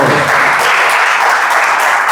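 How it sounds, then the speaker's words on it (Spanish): A church congregation claps in a dense, loud burst of applause that holds steady throughout. "¿Cuántos le dan un fuerte aplauso al Señor?"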